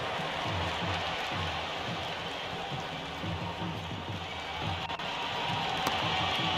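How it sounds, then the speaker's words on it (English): A stadium crowd roars in a Cricket 26 video game during an India vs Pakistan T20 match, a dense continuous wash of cheering that stays loud and steady throughout. "The crowd is electric right now."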